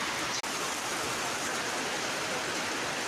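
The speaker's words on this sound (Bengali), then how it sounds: "এখানে প্রচণ্ড বৃষ্টি হচ্ছে" Heavy rain pours steadily over Morrelganj bazaar during a thunderstorm, a dense, loud, continuous hiss with one very brief dropout near the start.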